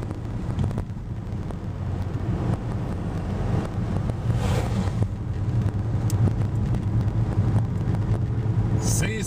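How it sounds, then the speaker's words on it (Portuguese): Truck passing close by a car on a two-lane road, a continuous rumbling road roar with wind buffeting the microphone and a swell as the vehicle goes by. "Olha a distância que passa o caminhão do nosso carro."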